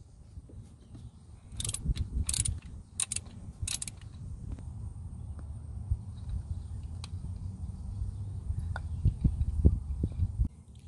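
A ratchet fitted with a 10mm socket and extension loosens the ignition coil screws on a 2006 Chevy HHR engine: a few short bursts of rapid metallic clicking early on, then quieter scattered ticks over a low background rumble.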